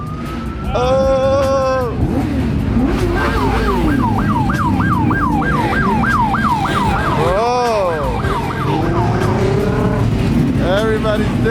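A police siren wails and yelps loudly over the steady rumble of car engines at a crowded car meet, cycling through warbling tones while people shout in surprise.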